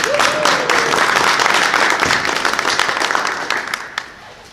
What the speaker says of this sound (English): let's give an applause for our fire chief